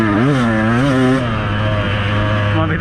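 A Beta 200RR two-stroke dirt bike engine wails loud and close at full throttle, its pitch rising and dipping in quick surges before settling into a high steady drone.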